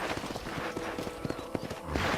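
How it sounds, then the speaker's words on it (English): Horse hooves clip-clopping in the Red Dead Redemption video game on a ranch, a quick irregular run of sharp hoof knocks over a rushing background, close and fairly loud. "I picked out a fine horse for you."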